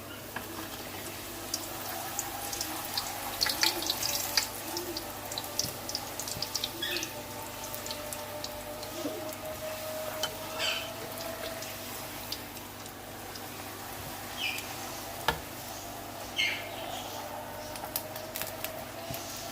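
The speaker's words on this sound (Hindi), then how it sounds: "देखें हम पूड़ी डाल रहे हैं इसमें और पूड़ी डालते वक्त कितना आराम से हम डाल रहे हैं इसमें पूड़ी।" Puris dropped into hot oil in a pan while halwa puri is cooked, giving a continuous soft crackling sizzle with scattered pops that stays fairly even throughout.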